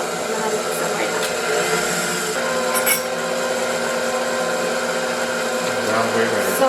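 An electric mixer blends dry ingredients for matcha cookies, a continuous close whirring hum that holds steady for several seconds with a faint higher rattle partway through.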